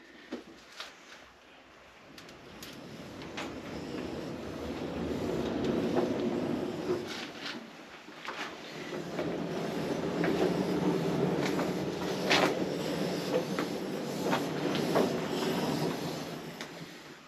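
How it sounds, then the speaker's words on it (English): A steam locomotive being moved out of its engine shed, with a continuous low rumble that swells and eases while scattered metallic clanks and clicks ring out, and no voices. "First thing to do is to get the engine out of its shed."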